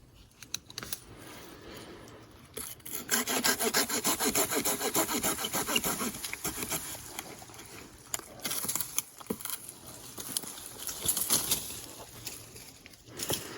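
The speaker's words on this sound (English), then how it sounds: "This one's been broken off. So I'm going to cut it off here." A hand saw cuts through a dead fruit tree branch outdoors, with a steady back-and-forth rasping of the blade in wood, close up, and faint birds in the background.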